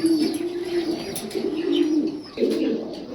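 A pair of Martin racer pigeons cooing close by, a low steady rolling coo that breaks briefly and resumes, with faint chirps and background noise.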